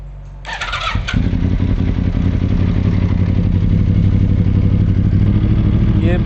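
A 2009–14 Yamaha R1 sport bike fitted with a Dynojet Autotune cranks briefly with a clattering starter, then catches and settles into a loud, steady close-up idle.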